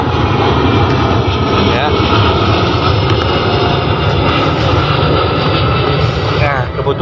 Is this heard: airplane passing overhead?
yes